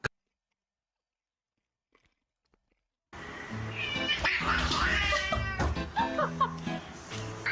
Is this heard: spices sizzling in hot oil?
no